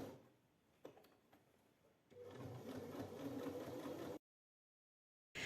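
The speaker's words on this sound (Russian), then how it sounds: "Стачать детали буду все той же лапкой." A domestic sewing machine stitches fur pieces for warm slippers, a steady close whirring hum that starts softly, swells to a fuller run, then stops abruptly before briefly starting up again.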